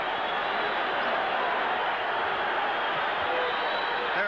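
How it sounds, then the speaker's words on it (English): Arena crowd at a world middleweight boxing bout, Joey Giardello against Rubin Carter, roaring in a dense steady wash of cheering and screaming, sustained and loud with no breaks, heard from within the venue. "Listen to this crowd."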